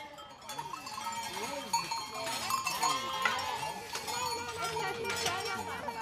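A flock of sheep being driven down into the valley with a farmer in his eighties, bleats rising and falling over a steady bed of clinking cowbells and a busy, continuous herd din close by.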